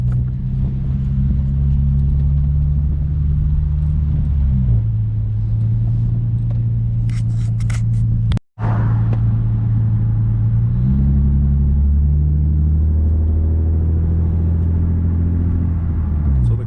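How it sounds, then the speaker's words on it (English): Infiniti G35 / Nissan 350Z engine with a faulty TCM transmission holding a loud, steady rev that stays stuck in gear without shifting, its low drone dipping and rising in pitch, with a brief dropout midway. "Car doesn't want to shift,"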